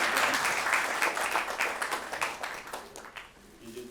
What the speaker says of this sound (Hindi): अशोक लाल के लिए एक बार तालियां बजाने के लिए